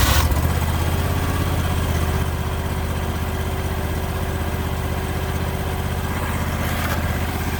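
John Deere X475 lawn tractor engine idles steadily on old gas, a loud close continuous rumble with a faint hum and no talking.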